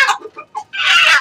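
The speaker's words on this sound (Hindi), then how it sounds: "मुर्गा वाला बोल रहा है।" A short, close rooster call, a few clipped clucking notes then a brief harsh crow, loud and alone.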